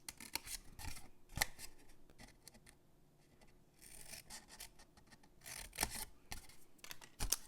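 Scissors snip and rasp through paper while a template for a diagonal-closure treat box is cut and scored, giving quiet, intermittent cutting strokes in bursts with short pauses and no talk.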